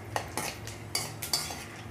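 Dry fruits being sautéed in ghee for karanji filling, with a spoon stirring and clinking in the pan in quick, irregular strokes over a faint sizzle, close and fairly quiet.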